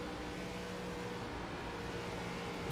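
Steady, continuous race car engine drone of an ARCA stock car held at full throttle around Texas in iRacing, a sustained mid-level roar with no breaks, heard from the cockpit without talk.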